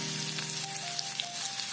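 Momo chutney ingredients frying lightly in a pan give a steady, close sizzle with fine crackling pops throughout, under a faint hum.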